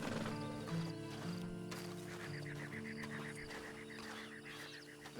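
A horse's hooves clop in a steady rhythm, moderately close, layered over sustained music in the background.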